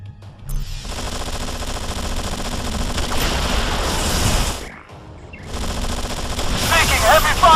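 Heavy machine gun fire from Anomaly 2 rattles in loud, continuous bursts, broken by one short pause before resuming, with a voice heard briefly over the din.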